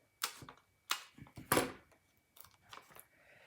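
Scissors cut foam dimensionals in a few short, crisp snips at close range with quiet pauses between them.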